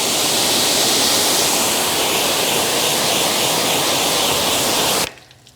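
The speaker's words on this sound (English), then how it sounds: "Now you can see how the water is just beating, sheeting right off" Rinse water sheets off a car during a wash, a loud, dense, continuous rushing spray up close that cuts off abruptly just before the end, with no voices.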